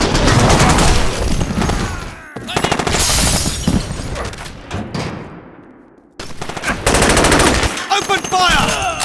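Dense automatic gunfire from a firefight in the video game SAS: Secure Tomorrow rattles loudly in sustained bursts with a brief lull midway, with shouted voices mixed in.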